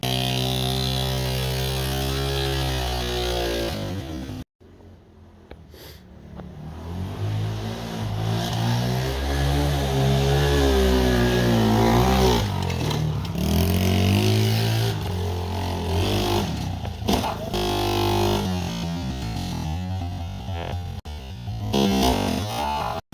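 A rebuilt 70cc Chinese quad engine runs loud and close with a steady buzzing drone, rising and falling through repeated revs, with a sudden brief cutout near the start before it catches again.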